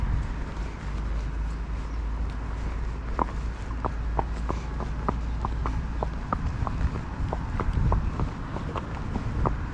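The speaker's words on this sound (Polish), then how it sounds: "Idziemy sobie z konikami wzdłuż torów" Horses' hooves clip-clop in a steady walking rhythm along railway tracks, close by, over a windy outdoor rumble, with footfalls continuing for several seconds.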